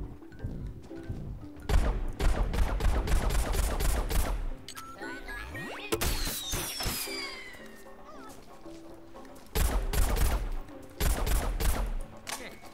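Bursts of gunfire and rocket blasts from the Plants vs. Zombies: Garden Warfare 2 shooter on PC, loud rapid volleys separated by quieter stretches of game ambience with whooshing effects.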